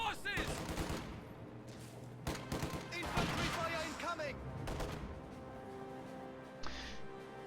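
Rapid MG42 machine gun bursts crackle through a busy real-time strategy battle, mixed with other gunfire and explosions, with a voice commentating over much of it.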